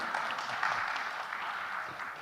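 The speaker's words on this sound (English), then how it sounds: "I'd like to give a round of applause to our distinguished guests." A panel audience at a high-level dialogue session gives its guests a round of applause. The clapping is faint and distant, a steady soft patter of many hands that holds evenly throughout with no voices on top.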